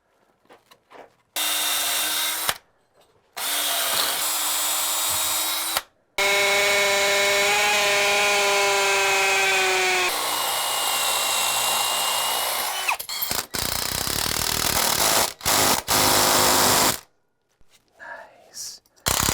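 Power drill driving Tapcon concrete screws through a wooden sill plate into masonry, several loud whirring runs of a few seconds each, close by, with pauses and brief talk between them.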